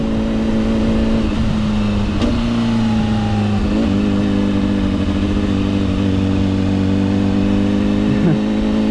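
A Honda CBR600RR sport motorcycle engine drones steadily while riding, with a couple of brief throttle changes and rev shifts, loud and close with constant wind and road noise, no talking.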